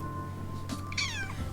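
A pet cat named Abby gives a single clear meow, close and fairly quiet, over a low steady background hum.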